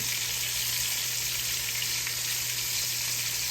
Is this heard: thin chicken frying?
yes